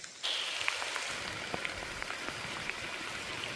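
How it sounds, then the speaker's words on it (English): A waterfall in the Yosemite wilderness rushes as a soft, steady hiss of falling water, faint and even, with small drips and splashes scattered through it. "There is a very pretty waterfall here."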